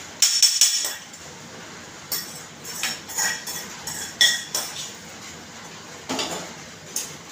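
Garlic and coconut being dry-roasted in a pan, heard as scattered metallic clinks and scrapes of a spoon against the pan, close and fairly quiet, in irregular bursts over a soft background.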